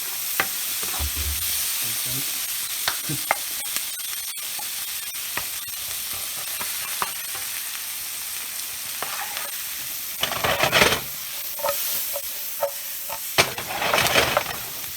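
Butter browning with a touch of olive oil sizzles steadily in a pan, a continuous close frying hiss with scattered pops and stirring clatter, swelling louder near the end.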